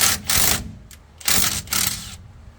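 A socket ratchet works on the bolts of a 14-bolt Chevy limited-slip rear differential cover, giving two bursts of quick, close, loud clicking separated by a short pause.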